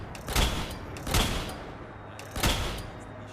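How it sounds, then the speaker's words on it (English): Three heavy, booming shots from a Gauss rifle in Fallout 4, spaced about a second apart, each a loud crack with a resonant low tail. "You can either fire it like you would a regular gun"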